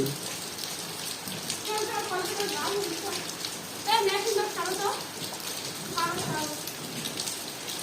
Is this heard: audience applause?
no